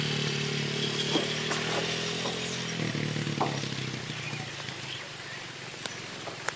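A motorcycle engine runs nearby with a steady droning hum that thins out and fades partway through, leaving faint background noise and a few light clicks.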